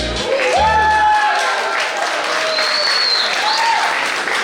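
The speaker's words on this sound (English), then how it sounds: "a big round of applause" Loud, sustained applause from a crowd at a Diwali party after a singing group performs, steady clapping filling the space, with a few voices and whoops rising above it.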